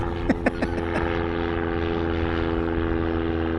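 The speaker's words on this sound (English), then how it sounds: "So, I'm trying to catch this Cessna." A Cessna light aircraft flies near Tucson International Airport, its steady droning engine hum continuous and fairly loud throughout, with a few sharp clicks or knocks early on.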